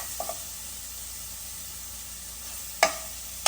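Spices fry in a pan for Andhra-style fish curry, giving a continuous hissing sizzle with two brief louder bursts of spatter or stirring near the end, and no voices.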